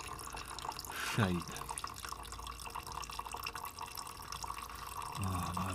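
Evans waterless coolant glugs and trickles as it is poured into a Honda Fireblade, with liquid gurgles and drips and a clear pour near the end, while someone talks over it.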